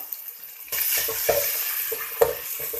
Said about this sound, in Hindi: ये लहसुन लाल हो गया तो अब इसके अंदर भुजिया को ऐड कर देंगे। इसको चलाएंगे।